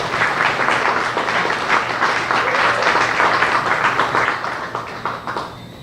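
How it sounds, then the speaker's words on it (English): A room full of guests at a gala evening claps warmly for sponsor HSBC, a steady, even patter of many hands that holds for several seconds and eases off slightly at the close. "So please give HSBC a big round of applause."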